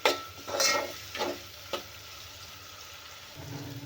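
Tomatoes fry in oil until soft, with a low sizzle under a few distinct spatula scrapes early on, then a quieter steady frying hiss.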